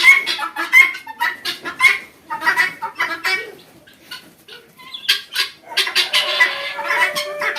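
Several chickens cluck and squawk close by on a Chinese-breed chicken farm in a busy, overlapping chorus, with brief bursts of louder calling and a quieter stretch in the middle.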